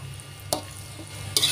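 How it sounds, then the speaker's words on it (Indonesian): Fried rice vermicelli with seasoning and celery leaves being stirred in a pan, a soft sizzle underneath with a couple of sharp scraping stir strokes. "Aduk lagi sampai rata."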